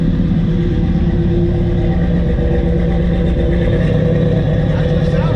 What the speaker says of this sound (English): We're gonna go ahead and fire it up here. Starts right up